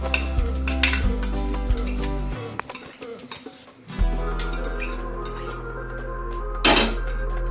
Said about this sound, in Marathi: हा तडका याच्यात टाकायचा आहे।